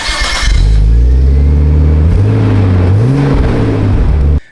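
Nissan R34 Skyline pulling into a garage, its engine loud and close with a low steady rumble that shifts pitch as the car creeps forward, then cuts off abruptly at the end.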